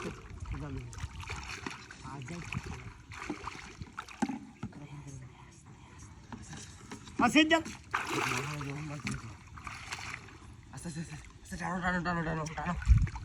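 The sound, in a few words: fishing net pulled through pond water, splashing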